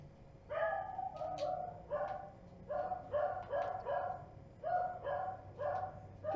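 A dog barks repeatedly indoors, about eight sharp, evenly spaced barks in bursts, close and fairly loud over a low background hum.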